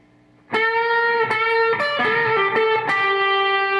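After a quiet start, an overdriven electric guitar bursts in at full tempo with a quick run from a solo, several rapid bent and picked notes played loud and close, no voices.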